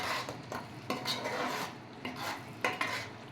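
Godavari-style fish curry, chepala pulusu, is stirred in a pot, the spoon scraping and knocking against the metal in uneven strokes over a light simmer, close and fairly loud, with no voices.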